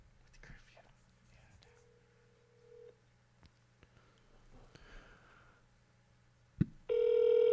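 Telephone call on speakerphone in a live comedy show setting, with soft whispering and small clicks before a steady ringback tone sounds loudly at the end.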